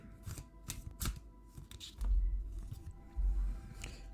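Playing cards riffle and snap repeatedly in quick bursts, with a few soft thumps as the deck is squared, close up and without talk.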